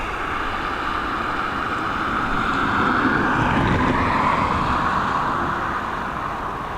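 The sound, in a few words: Delta airliner taxiing onto stand at Dublin Airport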